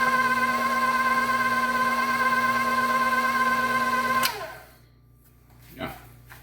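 Stand mixer on first gear beating pound cake batter, a steady loud whir with a strong hum that runs continuously for about four seconds and then cuts off abruptly, leaving near silence with a brief soft clatter.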